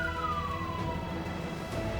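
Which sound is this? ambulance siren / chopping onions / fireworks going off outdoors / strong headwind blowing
ambulance siren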